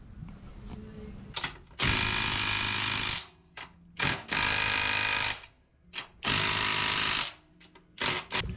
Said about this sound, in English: Let's get the bolts put on.